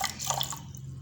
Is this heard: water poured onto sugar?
yes